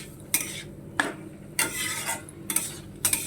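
Greens are sautéed and stirred in a pan, with five or six distinct scraping strokes of a utensil against the metal at roughly half-second intervals over a low, faint sizzle, close up.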